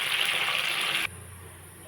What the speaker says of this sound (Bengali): এখন জল দিয়ে দেবো, আর একটু জল দিয়ে দেবো।